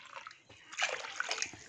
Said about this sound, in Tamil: நான் இப்போ தண்ணி சேர்த்துக்கிறேங்க.